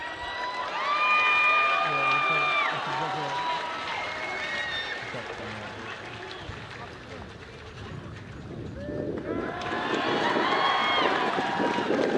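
Crowd applause and cheering for the 2019 champions Marist at a Men's U17/18 grand final against Manurewa, starting faintly beneath someone talking and swelling louder near the end.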